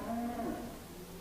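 A young steer or heifer in a livestock pen gives a single drawn-out moo that sinks in pitch, loud and close, with a faint hum of the saleyard behind it.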